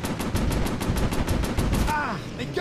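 Aircraft machine guns in a World War II VR flight combat game fire a rapid, steady burst of close, loud shots for nearly two seconds, then cut off as a whining flyby sound trails away.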